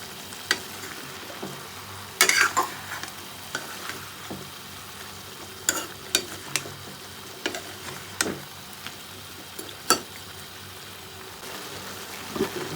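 Onions fry in a pan for village-style jackfruit with pork, a soft sizzle under intermittent stirring clatters and scrapes of a utensil against the pan.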